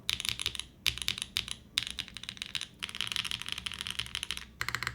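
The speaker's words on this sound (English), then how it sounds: "But the spacebar is insane. The alphas sound delicious." Rapid typing on a Sonnet mechanical keyboard, a dense run of crisp, close clacks in bursts with brief pauses between them and no talking.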